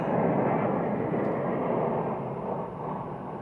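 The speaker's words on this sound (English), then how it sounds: "I don't know if y'all are going to be able to hear me with this plane going overhead." An airplane passing overhead outdoors: a steady, loud, broad roar that fades slightly toward the end, with no voices.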